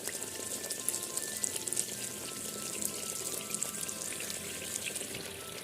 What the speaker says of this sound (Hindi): अब हम इस स्टेज पे जो है वो कोफ्ते डालना शुरू करेंगे।